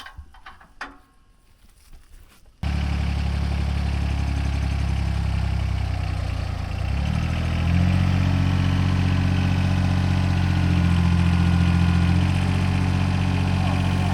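A heavy tractor engine starts up after a quiet moment and keeps running with a loud, steady rumble. Its pitch shifts slightly partway through.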